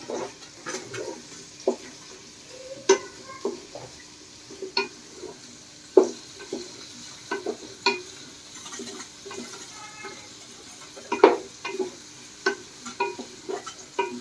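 Capsicum and spring onion being fried in a pan for homemade fried rice and chilli chicken, with scattered stirring scrapes and clinks over a faint sizzle, up close and without talk.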